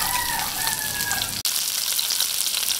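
Onions fry in hot oil after garlic for pancit with octopus, a loud, dense, continuous sizzle close up that cuts off briefly midway and then resumes, with a faint high squeal in the background.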